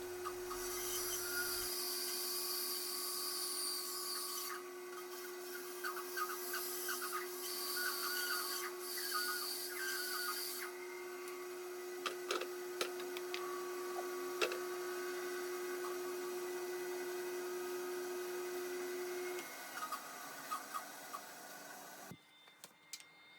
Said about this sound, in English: Now just back to the bandsaw and cut out the diameter.